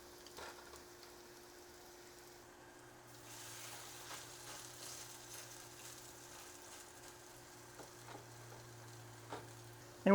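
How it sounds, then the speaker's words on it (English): Homemade hash browns fry quietly in oil, a faint steady hiss with scattered small pops and a low hum underneath, growing slightly louder midway. "we're going to cook these for 5 to 6 minutes on each side till they're nice and golden brown"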